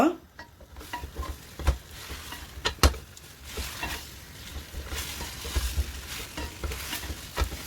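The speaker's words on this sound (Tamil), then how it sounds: "எள்ளு போட்டதால நல்ல அழகாக அந்த சத்தம் கேட்டுட்டு இருக்கீங்க பாருங்க" Steady crackling sizzle of sesame seeds frying in hot oil over high flame, with occasional sharper pops and stirring clatter, continuous and close.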